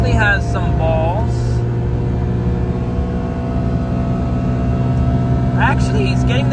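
A Mitsuoka Ray car engine holds a steady drone while cruising on a highway at about 80 km/h, with road and wind noise filling the cabin and brief chirping sounds at the start and end.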